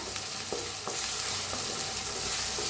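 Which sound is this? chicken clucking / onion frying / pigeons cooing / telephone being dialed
onion frying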